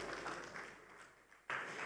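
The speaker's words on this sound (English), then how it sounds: "We can keep clapping, ladies and gentlemen," Audience applause at a conference stage after a panel discussion, a quiet, steady patter of clapping that dips briefly and then swells back.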